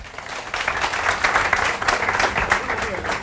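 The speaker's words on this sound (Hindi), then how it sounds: "एक जोरदार ताली आपने लिए।" A live audience at a motivational training seminar in Mumbai breaks into loud, sustained applause, dense overlapping claps filling the hall steadily throughout, with voices mixed into the crowd noise.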